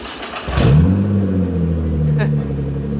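A Nissan GT-R engine with its exhaust removed starts and settles into a loud, raw, close idle rumble with a deep steady drone, a short burst of chatter at the start and voices heard over it.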